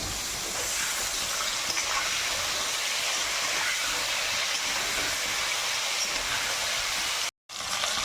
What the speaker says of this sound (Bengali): এবার আমি ডাঁটা আলুটা ভালো করে একটু ভেজে নেব।